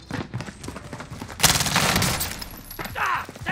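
Gunfire in the video game Warzone, on Rebirth Island, comes as rapid bursts of shots mixed with game chatter, and a voice speaks over the action.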